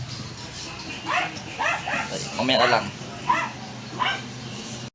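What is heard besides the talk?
dogs barking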